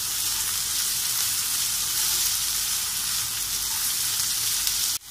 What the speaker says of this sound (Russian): И обжариваем все вместе.